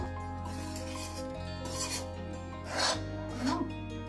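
Flour roasting in a pan for gond laddoos is stirred steadily, a continuous close scraping and rasping with a few louder strokes, over a constant low background hum.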